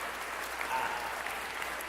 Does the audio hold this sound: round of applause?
yes